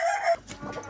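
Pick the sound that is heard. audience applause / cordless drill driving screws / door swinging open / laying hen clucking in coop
laying hen clucking in coop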